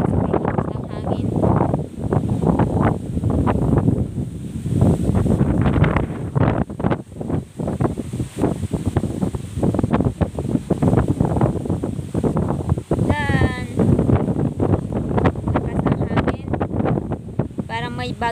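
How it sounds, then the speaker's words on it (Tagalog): Strong wind roars steadily against the microphone on a hilltop farm during a storm, with buffeting gusts throughout and people talking underneath. "Ang sarap ng hangin dito. Sobrang lakas."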